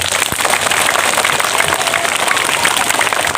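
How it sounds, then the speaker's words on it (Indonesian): Loud, sustained applause from a crowd at an Isra Mi'raj religious gathering, a dense wash of clapping hands that stays even from start to finish with no speech on top. "Tepuk tangan untuk kita semua."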